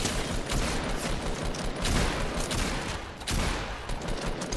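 Dense, continuous gunfire from the video game Fortnite, loud bursts of shots overlapping with almost no gaps throughout.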